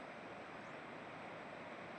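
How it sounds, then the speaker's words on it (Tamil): River water flowing steadily at the foothills where the Vaigai river begins, beside a mountain path in Tamil Nadu; a continuous broadband rush with no breaks, fairly close, heard alone. "ஆற்றுல தண்ணி போயிட்டுருக்குது."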